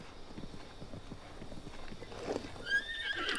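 Epona the horse in Zelda: Breath of the Wild gives a short whinny near the end, after a run of quiet rhythmic hoof clip-clops on a path, with faint ambient game sound beneath.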